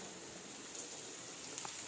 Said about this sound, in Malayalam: ഇവിടെ മഴ പെയ്യുന്നു